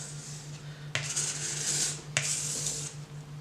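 A gut knife blade drawn over a raised leather strop to strip off the burr: close, soft rasping strokes in a steady continuous rub, with two sharper onsets marking new passes, over a faint constant electrical hum and no talking.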